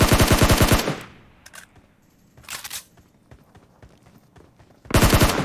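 Rapid automatic gunfire in PUBG Mobile, loud, close bursts at the start and end with a shorter burst and scattered single shots and clicks in the quieter middle.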